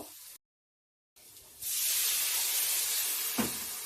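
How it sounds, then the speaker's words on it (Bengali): Water poured into a hot pan of vegetables and spices — eggplant, potato and vegetable stalks — bursts into a loud, steady steam hiss that follows a brief silence and continues to the end. "সামান্য পরিমাণে আমি একটু জল দিয়ে দেব"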